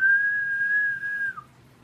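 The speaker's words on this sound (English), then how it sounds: "It's an old school themed tea kettle. It whistles." An old-school tea kettle lets out one clear, steady high whistle that holds for over a second, then drops in pitch and fades, close and alone in a quiet room.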